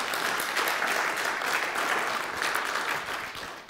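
Members of a church congregation clap after an offertory during a Sunday service, a fairly soft, even patter of applause that holds steady and then tapers slightly at the end.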